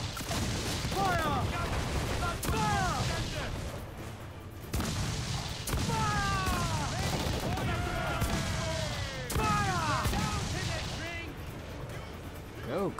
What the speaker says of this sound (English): this thing has a lot of cannons. Fire!